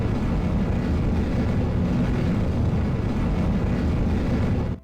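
A rocket's first stage engine in Kerbal Space Program, a steady loud roaring rumble that holds for several seconds before cutting off abruptly at the end.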